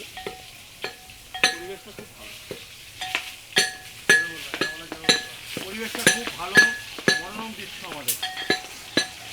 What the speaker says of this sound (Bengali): এই যে মিঠুন দা এখানে মাছ ভাজছে।